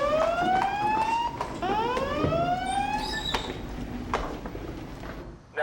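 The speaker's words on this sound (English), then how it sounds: "Suddenly, the alarm sounds and they're off" A loud wailing US Coast Guard station alarm rising and falling in repeated sweeps, close and continuous for several seconds.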